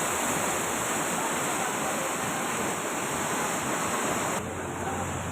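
Floodwater from cloudburst-like heavy rain surges across a village market ground in Satara district, making a continuous loud, broadband rushing roar with no let-up.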